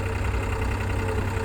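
A New Holland 4x4 tractor on a Ladakh mountain road runs with a steady, loud diesel thrum and knocking low rumble, close to the microphone with no voices.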